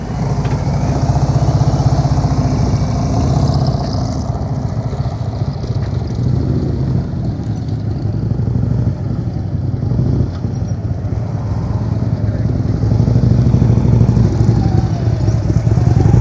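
A motorcycle engine runs continuously at low speed, throttled and rumbling near and fairly loud through the whole stretch, with a low, steady drone and mild fluctuations.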